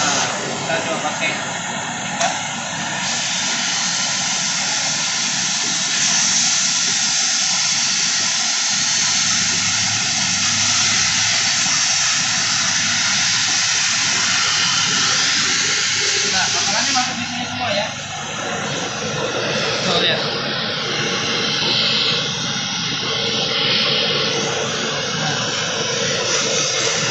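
A Philips PowerPro Compact FC9330 bagless vacuum cleaner runs steadily with a loud, continuous airy whoosh and hiss that holds through the whole stretch, with a brief dip in tone partway as the nozzle moves.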